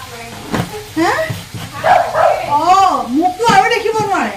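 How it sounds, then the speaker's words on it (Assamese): Several dogs bark, yip and whine close by in a rural home, overlapping excited bursts with rising and falling whimpers between barks. "আমাৰ কুকুৰকেইটা দেখিছে কেনেকুৱা ভুকি আছে"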